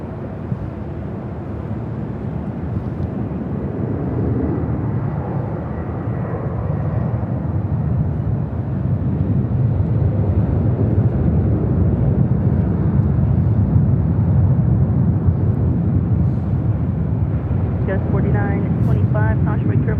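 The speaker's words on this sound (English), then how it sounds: "This is Skylease Cargo 4873 taking off to Shaman on a 747-400 freighter." A Skylease Cargo Boeing 747-400 freighter taking off at LAX, a broad, loud jet roar that builds steadily over twenty seconds, with someone talking over it near the end.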